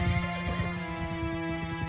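A horse in Mount & Blade II: Bannerlord, clip-clopping hooves with a brief whinny over a sustained musical drone, short and moderately loud.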